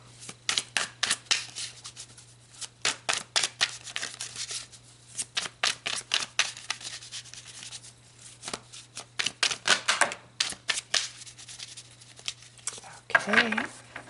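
Tarot cards shuffled by hand, close and crisp, with repeated bursts of rapid riffling flicks broken by short pauses and a brief flurry near the end.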